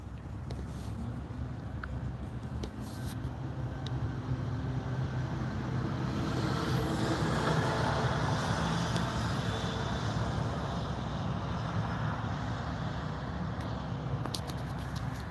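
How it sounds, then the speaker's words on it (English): Twin-engine Eurocopter EC135 helicopter running outdoors, a steady rumbling engine drone that stays fairly constant and moderately loud, with a few short clicks and knocks on top. "Yeah, it's a hell of a helicopter. It's twin engine."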